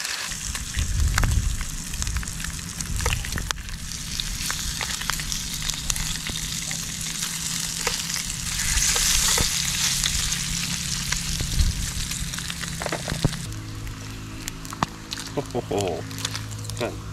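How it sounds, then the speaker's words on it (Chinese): Meat sizzles and crackles as it pan-fries over an outdoor campfire, a steady close frying hiss with stirring clatter while people talk over it. "看这煎的焦焦脆脆，外酥里嫩啊！"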